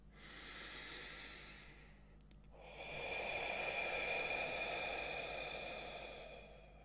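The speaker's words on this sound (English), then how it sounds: "take another deep breath in and another deep breath out" Deep, slow breathing during a guided meditation: a long airy exhale hiss fades out, a brief pause, then a louder sustained breath follows, close and alone with no talk.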